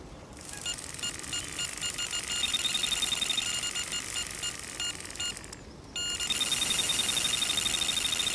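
A bite alarm in the Euro Fishing PC game chirps in quick repeated electronic beeps over a dense, hissy ambient wash of lake sound, pausing briefly and then resuming louder.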